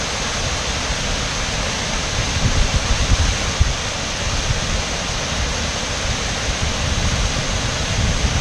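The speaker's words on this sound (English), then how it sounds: "Let's go check out a waterfall, something a little more beautiful than dirty ass socks." A waterfall on a hiking trail gives a steady, loud broadband rush of falling water, continuous and unbroken for the whole stretch with no voices.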